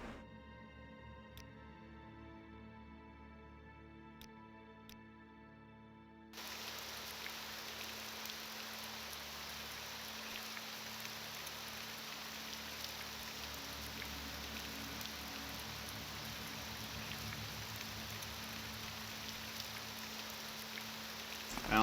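Steady rain pours in the Tamriel Rebuilt video game, a constant hiss that swells in after a few seconds of soft music with light chimes and continues unbroken to the end.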